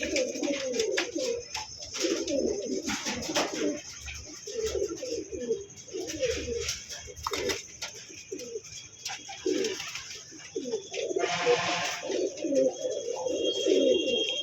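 Pigeons coo repeatedly in soft, low, throaty bursts, several birds overlapping at close range, with a brief rustle of flapping wings near the end.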